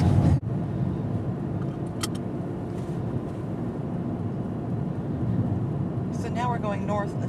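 A car drives through a highway construction zone on I-69, heading south in the northbound lanes, with a steady broadband road and engine rumble throughout and a brief sharp clatter near the start.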